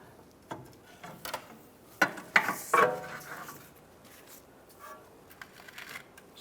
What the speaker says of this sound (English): grab a pry bar, pry underneath the spring. You can just pry it out.